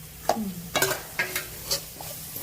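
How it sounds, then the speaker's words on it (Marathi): A spoon scrapes and stirs ground masala paste for chole gravy in a pan in a steady rhythm, several distinct strokes over a low sizzle, close and fairly loud. "मिक्सरला बारीक केलं हे सगळं छान परतून एक जीव करून घ्यायचं"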